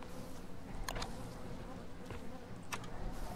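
Bees buzzing in the video game Don't Starve, a soft continuous insect drone with a few sharper flickers, heard under a low game ambience.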